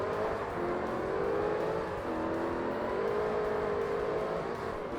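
A Lingenfelter race car in Forza Motorsport launches from the start, its engine droning loud and steady with the pitch climbing, dipping at a gear change, then climbing again.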